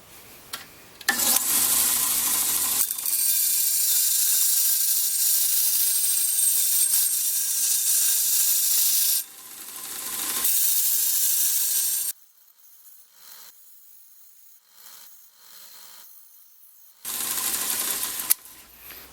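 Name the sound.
smoothing edge of silver spoon ring blank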